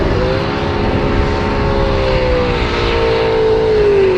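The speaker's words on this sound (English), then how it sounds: "He's power skidding it." A Holden VF Club Sport with 30 pounds of boost and 1400 horsepower power skids, its engine holding a loud, sustained, high drone that edges up in pitch under a wash of tyre and crowd noise.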